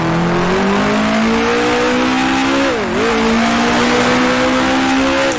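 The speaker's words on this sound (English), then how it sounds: "Still hear cars go down the front straightaway, so definitely not alone out here." Open-wheel race cars from the 1966 Formula One season scream past on the Monaco circuit in the racing sim Grand Prix Legends, loud engine whine rising through the gears with a quick dip and recovery midway.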